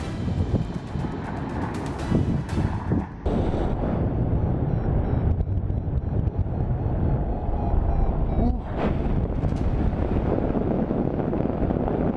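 A strong gust of wind buffets a sailboat on open water, loud, continuous rushing and roaring wind noise against the microphone for the full length, with bursts of heavier blustering and water sounds underneath.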